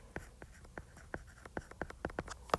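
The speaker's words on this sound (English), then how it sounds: "I'll just go ahead and write that down as one of your words." Marker or chalk strokes tap and scratch on a classroom board as a word is written, a series of short, crisp, irregular strokes close by with no talking.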